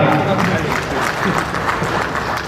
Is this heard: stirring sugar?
no